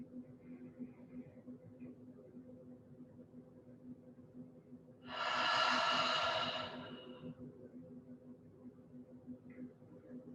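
A single long, heavy exhale from a person doing jaw-opening exercises, breathy and close, rising out of a quiet room hum and fading after about two seconds.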